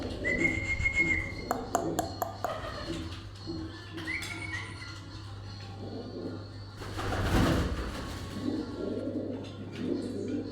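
Pigeons in a rooftop loft, soft low cooing calls repeating throughout with a few brief whistles and rustling wing flutters, close by over a steady low background hum.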